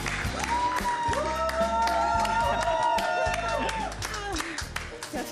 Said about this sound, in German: Ich hab Applaus.